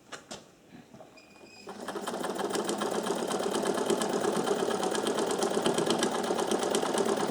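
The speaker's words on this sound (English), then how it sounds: "let's sew a little bit and" An old sewing machine with a newly repaired thread tensioner starts with a few scattered clicks, then settles into a fast, steady mechanical clatter that runs close and even for several seconds.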